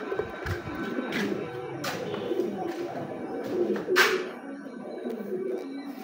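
Pet pigeons coo steadily in low, rolling calls at a food bowl during feeding, several birds close by, with brief bright rustles and clatters breaking through now and then.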